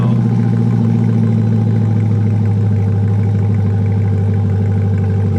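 A 2020 Chevrolet Corvette Stingray with Hennessy high-flow sport cats and full exhaust idles with a loud, deep, steady rumble, close by.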